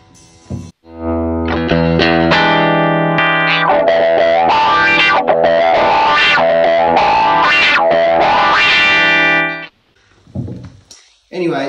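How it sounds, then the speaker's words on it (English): An electric guitar through a Danelectro Food Series wah pedal with heavy fuzz, sweeping vowel-like wah tones over loud, continuous distorted chords for several seconds before stopping. "Anyway, it just does a wah sound."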